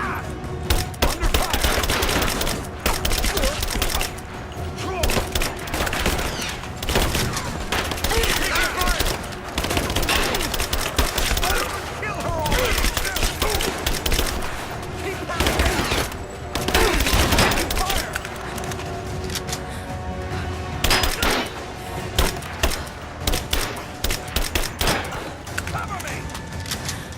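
Gunfire rattles through a firefight in the video game Rise of the Tomb Raider, dense bursts of automatic shots and heavy thuds going almost nonstop, loud and close, with voices shouting in between.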